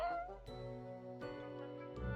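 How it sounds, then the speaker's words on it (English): A cat gives several short, clear meows in quick succession, close and fairly quiet, with no other sounds around. "Meow, the cat interjects."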